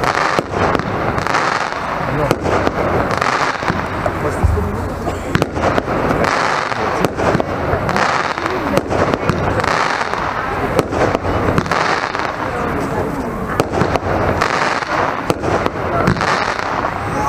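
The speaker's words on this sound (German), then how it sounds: "eine 13-Schuss-Batterie mit Popping Flower Bouquet" A loud 13-shot Nico Popping Flower Bouquet firework battery crackles nonstop, dense popping and sizzling bursts layered with sharp bangs, close and continuous throughout.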